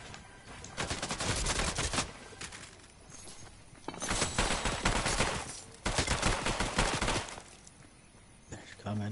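Bursts of rapid automatic gunfire in a PS4 shooter game, loud and sustained in several long volleys separated by brief lulls, with talk mixed in.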